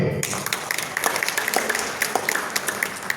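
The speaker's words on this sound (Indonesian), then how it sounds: "Kita tepuk tangan buat beliau." Crowd applause at a KNPI Youth Pledge Day gathering, a steady burst of many hands clapping at once with a few louder individual claps standing out.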